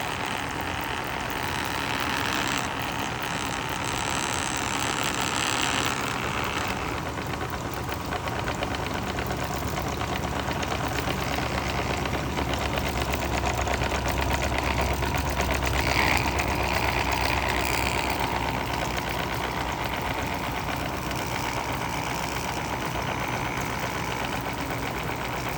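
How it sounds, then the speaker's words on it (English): A wheel spinning on a magnetic table as a magnet is pushed closer, giving a steady mechanical whirring drone that holds throughout at an even level, with no talking. "if I push this magnet in closer, watch the wheel, listen to the wheel"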